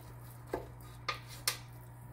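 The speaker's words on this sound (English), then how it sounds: "Going to put it right into my pan on top of a roasting tray." A whole duck set down into a pan on a roasting tray, giving three separate metallic clanks and knocks at close range, with a steady low hum underneath.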